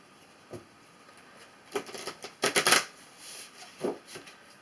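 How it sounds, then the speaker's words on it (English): Tarot cards are shuffled in a quiet room, a soft riffle followed by a denser flurry of papery flicks and a few final taps, close and fairly faint with no voice over it. "as I'm shuffling the cards"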